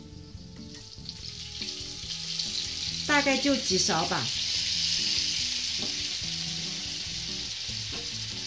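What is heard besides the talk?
dumplings frying in oil, sizzling after water is added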